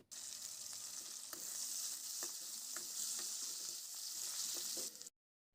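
Okra pieces frying in a pan of tomato chaaru mix, a steady bright sizzle with a few sharp scrapes of stirring, close and continuous until it cuts off abruptly near the end.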